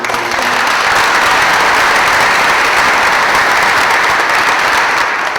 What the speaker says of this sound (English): they really, again, deserve a round of applause too